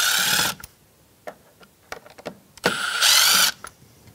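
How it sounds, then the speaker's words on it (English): Screws being removed from the hose reel of a Kranzle 1122TST pressure washer with a power driver: two short whirring bursts at the start and end, with clicks and handling knocks between. "we're gonna remove the four screws that hold the hose reel on"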